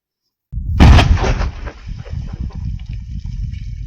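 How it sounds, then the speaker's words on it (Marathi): A sudden loud explosive blast with flames and smoke bursts out of silence, followed by a rumbling, crackling tail that slowly settles. "पहिल्यापेक्षा दुसरा धमाका लय जोरात झाला. जाळ आणि धूर सोबतच."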